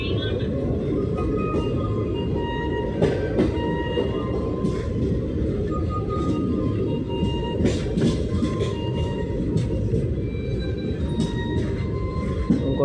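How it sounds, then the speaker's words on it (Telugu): A train rolls along the rails past a station, heard from outside: a steady, loud low rumble with faint metallic squeals and occasional clanks running throughout. "ట్రైన్ ఎట్లా వెళ్తుంది"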